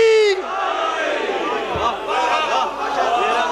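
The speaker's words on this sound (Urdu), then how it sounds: "دونوں ہاتھ بلند کر کے نعرے حیدری" A crowd at a Shia majlis gathering shouts the Nara-e-Haidari slogan in unison after a preacher's call, a loud massed roar of many voices sustained throughout.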